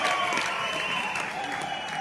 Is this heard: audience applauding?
yes